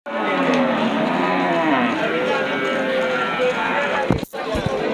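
A Red Friesian cow at a cattle market gives a long, low moo close by, drawn out and loud, followed by a brief thump near the end.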